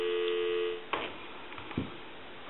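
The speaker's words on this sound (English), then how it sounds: "Give some dial tone." A payphone handset gives a steady dial tone for just under a second before it cuts off, followed by faint clicks and a brief low thump from the phone, heard close over the telephone line.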